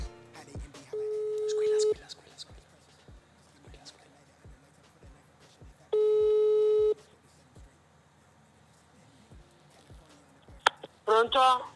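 An Italian telephone ringback tone sounds twice while a call goes through, two steady one-second beeps about five seconds apart over faint ticking, before a voice answers at the end.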